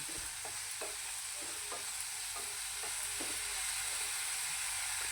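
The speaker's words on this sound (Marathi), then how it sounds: "बारीक चिरून घेतलेले टॅमॅटो टाकणार आहोत आणि टॅमॅटोचा चांगला गाळ होईपर्यंत फ्राय करायचा" Finely chopped tomatoes fry in hot oil for a bombil fish masala, giving a constant soft sizzle with regular stirring scrapes roughly every half second, quiet and close, no speech.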